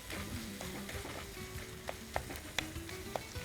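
Tomato and coconut masala being sautéed in a pan, a soft, low sizzle with a few scattered spatter pops and stirring clicks.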